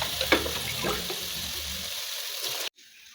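Water poured into a biryani cooking pot over sautéed onions, a steady splashing pour with sizzling that stops abruptly near the end.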